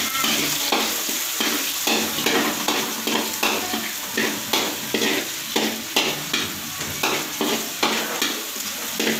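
Garlic and onion fry in a hot pan with a steady loud sizzle, while a utensil stirs and scrapes in a regular rhythm of strokes throughout, with no talking.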